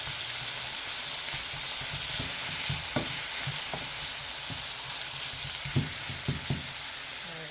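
Sausage frying in a pan gives a continuous close sizzle with scattered soft clicks and scrapes of stirring, steady in loudness throughout.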